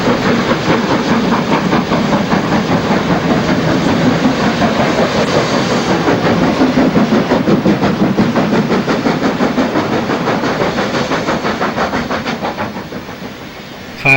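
A train pulled by two double-heading steam locomotives, one numbered 5775, rumbles past loud and close, with steady wheel clatter and hiss that fade a little at the end.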